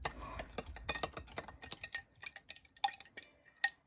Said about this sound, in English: Now I'm going to do a couple more stirs.